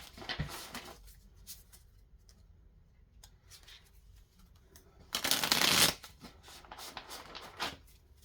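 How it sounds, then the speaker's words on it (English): Cards riffle briefly at the start, then a loud burst of shuffling in the middle, with a few soft taps and light handling noises between. "So I'm going to pause and shuffle the deck."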